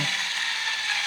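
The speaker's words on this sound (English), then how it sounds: "So now it closed. Let's put the screws in. Screw in." A screwdriver turns screws into a computer case during a PC build, a brief close steady ratcheting whir with no talk.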